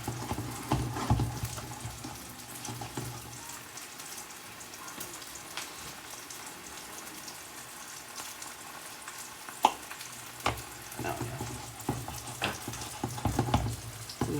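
Dill cream sauce reducing in a pan beside pan-seared salmon, a steady low sizzle and bubbling with occasional utensil clinks and scrapes, close and continuous throughout.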